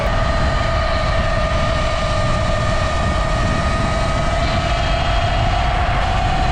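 A 72v Sur Ron electric dirt bike ridden at speed, its steady motor whine with rising tonal hum over loud rushing wind and tyre noise, close and continuous, no talking.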